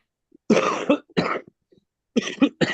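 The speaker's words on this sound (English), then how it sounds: "Ooh, that's a tough cough." Several harsh coughs in quick bursts, close by, separated by short pauses, with no talking, on a Zoom call.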